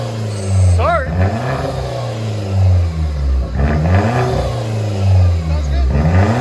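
Hyundai Genesis 2.0 turbo engine revving: a loud, close four-cylinder drone rising and falling through several throttle blips, with a brief high whine near the start.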